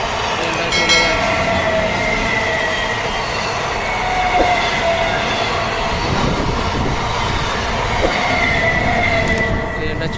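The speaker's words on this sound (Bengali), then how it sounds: "ট্রেনটা চলে যাচ্ছে।" A train passing close by outdoors, a loud continuous rumble of wheels and carriages with faint squealing tones, steady throughout without speech.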